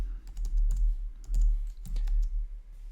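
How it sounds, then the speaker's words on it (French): A computer keyboard being typed on in quick, close bursts of clicky keystrokes, with short pauses between bursts and no talking. "on va aller dans notre navigateur et on va aller taper HitPow"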